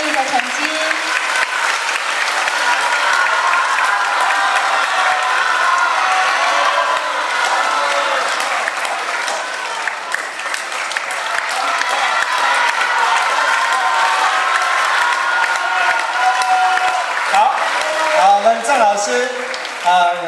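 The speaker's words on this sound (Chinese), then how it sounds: "请各位嘉宾给他们一个掌声鼓励" Sustained applause from the audience at a children's graduation concert, a long, loud wash of clapping with scattered cheers and whoops, and voices heard through it.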